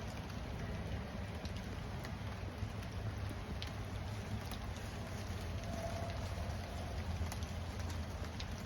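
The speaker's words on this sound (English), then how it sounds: "definitely we're getting some steady rain here." Steady rain during a spring storm falls as a constant hiss with a low rumble underneath, fairly faint and unbroken throughout.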